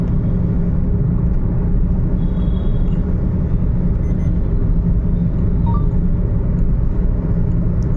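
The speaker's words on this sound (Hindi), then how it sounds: "अभी मैं अकेला ही गाड़ी चला रहा हूँ" Steady, dense low rumble of a car moving along a highway at night, heard from inside the cabin, continuous and fairly loud with no talk.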